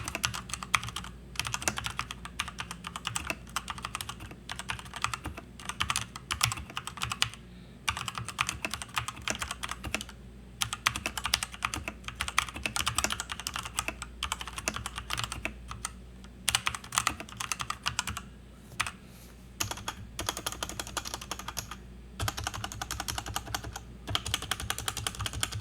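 A Royal Kludge RK61 2020 mechanical keyboard is typed on close up in quick, uneven bursts of clacky keystrokes, broken by brief pauses, with no voices over the typing.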